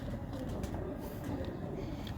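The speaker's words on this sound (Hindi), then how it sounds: "ये सारे गेम वाले कबूतर हैं" Parwana game pigeons coo softly and low, a muffled rolling burble heard close by under a noisy room background.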